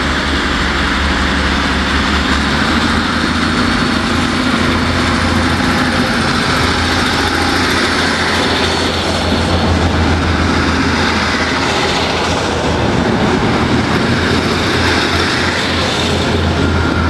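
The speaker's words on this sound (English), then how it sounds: "a tour train running from Edinburgh Waverley to Fort William" Class 37 and 47 diesel locomotives haul a tour train near Dumbarton, a steady loud engine drone with deep low throb and rolling wagon rumble that holds for the whole stretch without letup.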